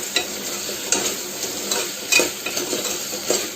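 Potatoes and carrots for masala pulao rice are stirred in a hot pan, with spoon scrapes and clinks over a steady sizzle, close and clear, with no talking.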